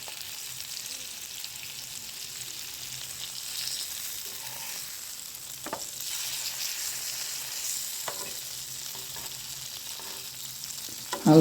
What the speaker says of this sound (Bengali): সবগুলা ফ্রাই করে নিব। মাছ, আলু, টমেটো, সাথে দিব কাঁচামরিচ।